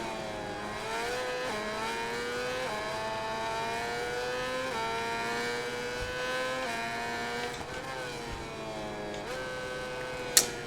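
Honda 800cc motorcycles racing in MotoGP 21, a continuous layered engine whine rising and falling in pitch through gear changes, loud and steady with several bikes overlapping and a sharp click near the end.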